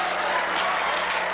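A high-school basketball crowd at South Bend Adams roars and cheers after a player's ankle-breaking move drops two defenders, a dense, sustained wash of voices and applause filling the gym without pause.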